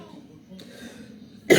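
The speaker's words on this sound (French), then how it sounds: "j'ai la toux encore" A man in a French-language monologue lets out one sharp, close cough at the end after a stretch of quiet murmuring.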